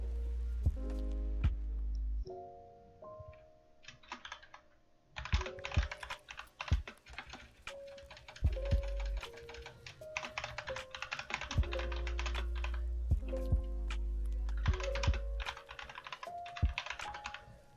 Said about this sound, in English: Typing too fast for a conversation.